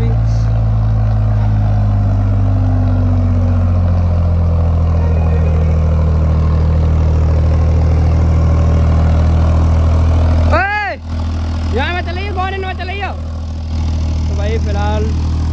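A Powertrac Euro 55 tractor, a 55 HP model, idles with a steady low diesel throb. Someone talks over the engine near the end.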